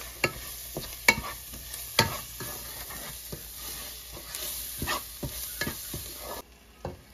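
Gram flour being stirred and roasted in a pan for a spinach, pea and paneer curry: a spoon scrapes and clacks against the pan in irregular strokes over a steady background sizzle.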